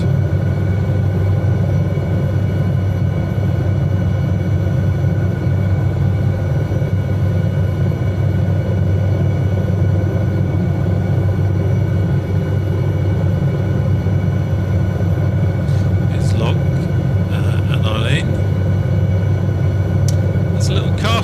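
SA315B Lama helicopter in a flight simulator game, a steady loud engine and rotor drone running unbroken throughout, with a few brief clicks near the end.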